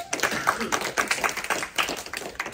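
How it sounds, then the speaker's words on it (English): Audience applause at an e-learning business seminar greets a man invited up on stage, a short burst of scattered clapping with uneven taps rising and falling, fairly close, while speech mixes in. "Give Ty a, a round of applause."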